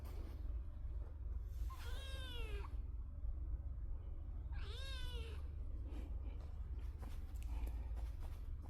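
A stray kitten gives two drawn-out meows, a few seconds apart, then soft shuffling and light scrabbling as it climbs up nearby in a quiet room.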